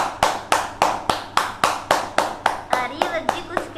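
Applause for award winners at an online public speaking competition comes as a single pair of hands clapping in an even, steady rhythm, about a dozen crisp close claps in quick succession.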